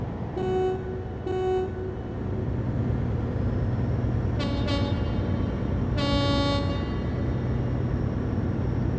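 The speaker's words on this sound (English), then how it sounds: "How about the city horn?" A vehicle horn honks several times, two short toots, then a quick double beep and a longer blast, over a steady rumbling engine drone.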